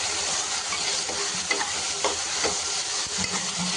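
Food sautéing in a hot pan, a dense continuous sizzle and crackle with soft stirring scrapes running throughout.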